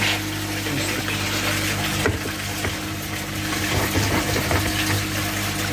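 Water runs from a tap into a DIY biofilter, a loud, steady rushing and splashing close by with no talk over it.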